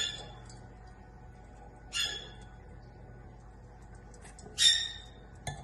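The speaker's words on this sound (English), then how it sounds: "even Lucky the Bird is going crazy in the background" A pet bird gives two short, sharp squawks a few seconds apart in the background of a quiet room, faint and brief, with a small click at the end and no talking.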